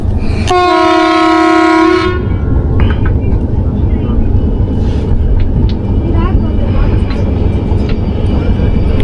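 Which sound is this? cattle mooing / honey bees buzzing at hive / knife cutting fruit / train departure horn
train departure horn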